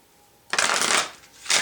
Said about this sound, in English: I truly dislike shuffling these cards.